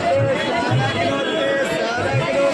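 Crowd chatter at the busy Dadar flower market in Mumbai, a dense steady babble of many nearby voices filling the whole stretch, with a nearby speaker talking over it.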